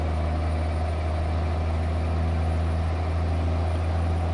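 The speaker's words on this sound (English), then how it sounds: "And you can hear that engine just chugging its way up." A heavy truck's engine in American Truck Simulator labours uphill with a steady, loud, low droning rumble that stays constant throughout, with no talk over it.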